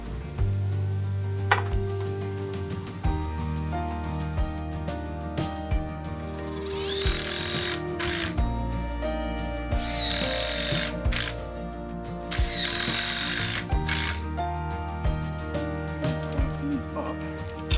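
A power drill drives screws to fix a rope into a tree at an off-grid cabin's outdoor kitchen build site. It whirs in several strong bursts of a second or two each, close by, with quieter handling noise between.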